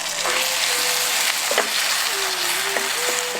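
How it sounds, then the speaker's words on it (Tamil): Squeezed tomatoes and shallots sauté in a pan with a soft, steady sizzle, joined by a few light clinks and scrapes from stirring. No one speaks. "சேர்த்துக்கிட்ட தக்காளியை நல்லா வதங்க விட்டுட்டு"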